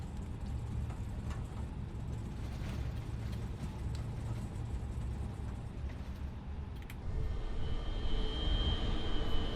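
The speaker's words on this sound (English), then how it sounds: "So, that was an Airbus A320Neo" Airbus A320neo taxiing to parking in Microsoft Flight Simulator 2020, giving a steady low engine rumble with broadband whine that grows slightly louder and gains a thin high tone in the final few seconds; no talk.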